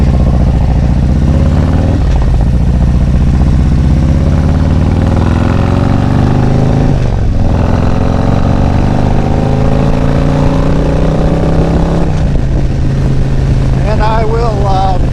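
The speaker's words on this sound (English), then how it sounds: "So let me get through this morning rush hour traffic." A 2022 Harley-Davidson Road King Special rides through morning rush hour traffic, its engine droning steadily up close with wind rush and shifting revs, and a brief dip in the engine note partway through.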